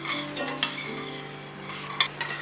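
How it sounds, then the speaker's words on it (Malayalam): Spoon stirring sugar into water in a pot while making raw mango candy, with a few sharp metallic scrapes and clinks over a steady low simmering hum, close and moderately quiet. "ഇനി ഈ പഞ്ചസാര നന്നായിട്ട് ലയിപ്പിച്ചെടുക്കണം വെള്ളത്തിൽ"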